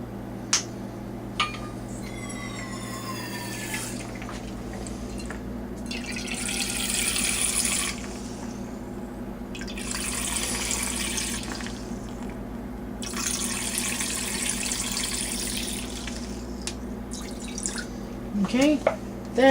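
Lime juice for tequila lime shrimp pours in three separate steady splashing streams, each a few seconds long, over a constant low hum, with quiet drips between.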